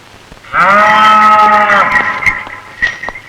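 A bull lets out one loud, close, drawn-out moo lasting over a second, then trails off into quieter rustling.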